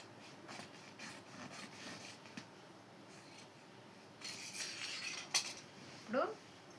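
Scissors cut through cloth for a long frock in soft, intermittent snips and rustles, quiet and close, with a louder scrape and crisp snip near the end.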